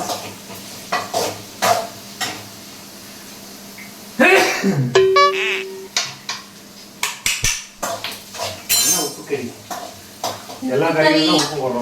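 Food sautéing in oil in a home kitchen, with intermittent clinks and scrapes of a spoon stirring in a pan over a soft sizzle, plus a few sharper metallic knocks and brief voices in between.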